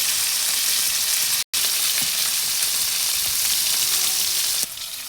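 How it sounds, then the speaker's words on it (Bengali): Pieces of fish fry in hot oil in a pan, giving a loud, close, continuous sizzle that cuts out for a moment and then carries on steadily. "মাছগুলো ভাজতে দেব।"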